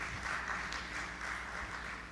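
A conference audience applauds a bank CEO panel member as he is introduced on stage, a steady, even mass of clapping from a sizeable room for about two seconds.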